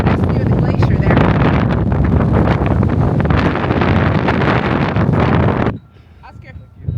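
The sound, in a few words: strong mountain wind near a glacier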